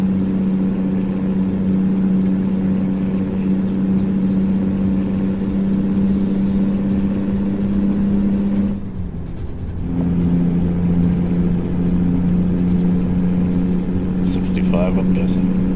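A truck engine in American Truck Simulator drones steadily and loudly, dipping briefly near the middle and then resuming its low, even hum, with a few light clicks near the end.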